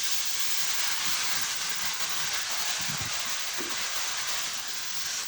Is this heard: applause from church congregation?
no